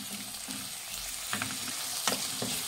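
Sliced capsicum being stirred in a hot pan over a medium flame for capsicum bath, with a steady sizzle of frying broken by repeated scraping strokes of a spoon, close and fairly quiet, with no voices.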